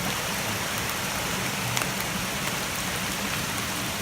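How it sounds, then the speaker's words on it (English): Light rain falling steadily on the Appalachian Trail near Harper's Creek, a dense, even hiss of drops on surfaces with no voices, close and constant throughout. "Still got a light rain."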